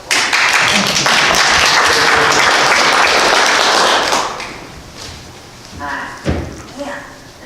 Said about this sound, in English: Can everybody give him a round of applause?